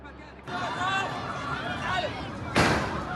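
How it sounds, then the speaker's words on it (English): A sharp gunshot cracks once near a crowd gathered at an aid airdrop in Gaza, cutting through ongoing chatter and hubbub of people nearby. "There are gunshots."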